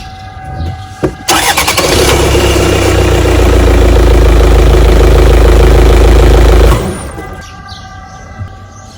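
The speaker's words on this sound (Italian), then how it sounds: "con la batteria attaccata, anche se scarica, mi consente di far partire la macchina" A car engine cranks and starts using an emergency jump starter on a flat battery, roaring loudly for several seconds before dropping to a lower idle.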